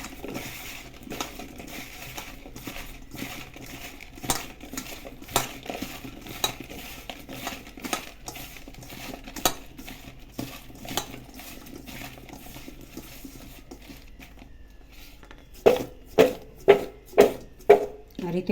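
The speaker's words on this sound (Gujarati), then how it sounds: "મીઠું ને હળદર નાખીને કેરી પલાળી દીધી, અરે મિક્સ કરીને રાખી." Raw mango pieces tossed with salt and turmeric for a chana-methi pickle, giving a steady run of clicking, clattering strokes against a bowl, then a few louder, sharper knocks near the end, with no talk.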